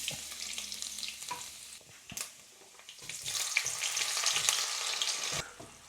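Ginger and garlic frying in hot oil in a pan, a close, bright sizzle that swells and settles with stirring clatter and a couple of sharp knocks, no talk.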